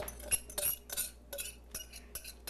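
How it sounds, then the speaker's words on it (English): Spatula scraping banana batter from a mixing bowl in a home kitchen, a run of close, uneven scrapes and light clinks against the bowl, with no talking. "Let me use the spatula and get everything out of there for you"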